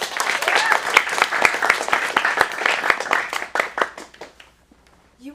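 Applause from a small audience at a teen acting studio showcase, distinct individual claps in a lively uneven rhythm with a cheer or two, dying out near the end before a voice speaks.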